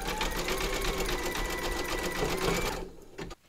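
Embroidery sewing machine stitching a zigzag line in grey thread, a steady rapid mechanical whirr running loud and continuous, then stopping abruptly near the end with a couple of faint clicks.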